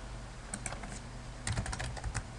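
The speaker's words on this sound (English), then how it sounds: "We start typing in the right field." Rapid keystrokes on a computer keyboard while entering a location into a web form field, starting with a few scattered taps and then a quicker, denser burst of typing, close and clear, with no voices.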